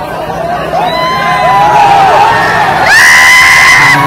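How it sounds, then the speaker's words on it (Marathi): A dense crowd of fans at a rural bullock-cart race ground (Savali Maidan, Desai) yells and cheers loudly and continuously, with shrill whoops and whistles rising over the roar near the end. "सगळ्या फॅन्स लोकांचा जल्लोष कल्लो आणि घेरा आपल्याला गाईज"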